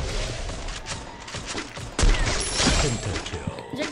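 Gunfire in the battle-royale game Free Fire, a dense rattle of bursts through the whole stretch, growing louder and heavier toward the end, with players talking over it.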